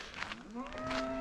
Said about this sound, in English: Oh, there's a cow.